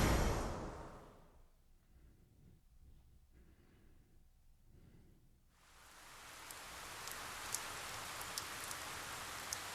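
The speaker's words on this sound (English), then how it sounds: "The rain won't let up." Steady rain hiss in the video game 428: Shibuya Scramble that fades to near quiet in the middle, then returns louder with a few sharp drips and taps on top.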